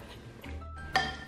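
Dinner plates clink briefly together, a sharp ringing ceramic tap near the end after a soft shuffle, close by in a quiet home kitchen.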